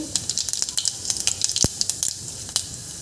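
Cumin seeds crackle and sizzle in hot oil, a quick irregular series of sharp pops over a soft frying hiss, close by.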